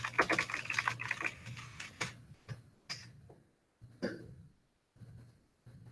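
Rapid clicking of keys on a computer keyboard as a URL is typed, a dense flurry of close taps that thins into scattered single keystrokes with short pauses, fairly quiet and with no speech.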